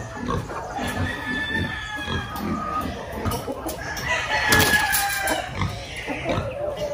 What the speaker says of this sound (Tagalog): Dito na yung ating manok po na kinuha, pinick up at i-deliver natin kay Sir Emil.